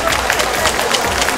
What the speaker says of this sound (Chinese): 给点掌声鼓励他们一下